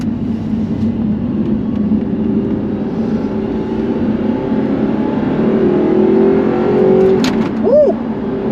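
An Audi R8 with a rebuilt, stock engine revs hard through a second-gear pull, a loud rising engine note heard from inside the car that climbs steadily and peaks near the end.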